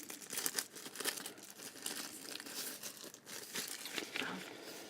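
Soft-touch plastic bag packaging a power bank crinkles and rustles continuously up close, with irregular crackles and a few sharper tearing-like crunches and no talking.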